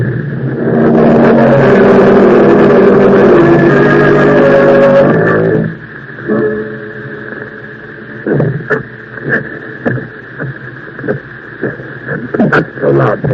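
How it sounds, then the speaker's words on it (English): A car engine rumbles loud and steady for about five seconds in a radio drama scene, then cuts off, leaving quieter scattered knocks and shuffling sounds. "Drive the car down a few blocks."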